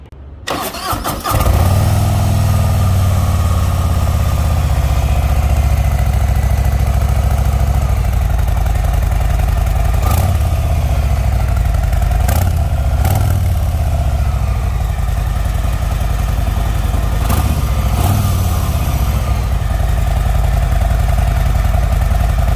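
A Harley-Davidson Softail with the Milwaukee-Eight 107 engine and a slip-on muffler cranks and fires up, then settles into a loud, close, steady rumbling idle broken by a few short throttle blips.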